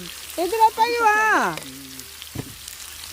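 Meat sizzles on a charcoal barbecue grill at a campfire cookout, a soft steady crackle running low beneath a voice calling out, then continuing faintly on its own.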